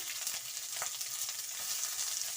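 Chopped onions fry in a pan with curry leaves and green chillies, a steady close hiss of sizzling oil running throughout with a few faint stirring scrapes and no voices.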